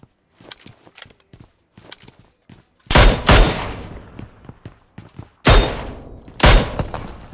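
Gunfire in PUBG Mobile, two loud, sharp bursts of closely spaced shots landing on a player, preceded by faint scattered clicks and footsteps, with no speech.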